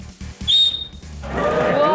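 A person whistles a short, bright, high tone, then noisy chatter and commotion swell up from an audience in a studio show setting.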